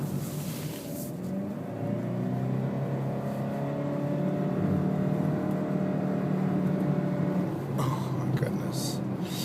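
A 2012 Honda Civic Hybrid engine runs at high revs in sport mode while driving, a steady mid-pitched drone that rises gradually, heard from inside the cabin with road noise and a person talking over it.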